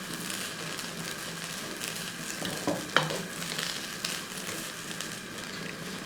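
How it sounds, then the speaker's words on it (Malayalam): Bitter gourd thoran with grated coconut being stirred in a pan, a constant close frying crackle and sizzle with a single sharp clink of the spoon against the metal partway through. "ഇനി ഒന്ന് ഇളക്കി കൊടുക്കുക"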